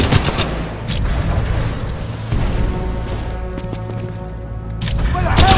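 Sustained gunfire from the video game Titanfall 2: a dense, continuous stream of rapid shots and booming bursts, loud and close throughout, with sharp louder blasts near the start and end.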